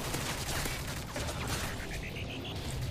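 Gunfire from Call of Duty MW3, played on the Lockdown map with an M4A1: dense, continuous bursts of shots with rapid rattling reports filling the whole stretch over a steady roar of game noise.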